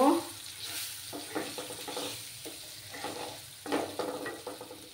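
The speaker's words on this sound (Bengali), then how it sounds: "তারপর দিলাম 2 চামচের মতো ধনে গুঁড়ো দিলাম। দিয়ে আমি ভালো করে কষিয়ে নেব।" Spices with coriander powder fry in a pan for a vegetarian dinner dish, a soft sizzle punctuated by repeated scraping stirs in an uneven rhythm, close and moderately loud.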